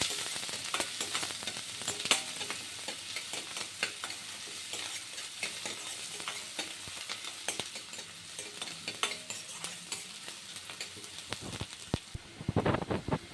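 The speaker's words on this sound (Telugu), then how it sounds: "ఆనియన్స్ గోల్డ్ కలర్ వచ్చే వరకు వేపాలి" Onions and curry leaves frying in a pan, a faint, steady crackling sizzle throughout with a few light stirring clatters near the end.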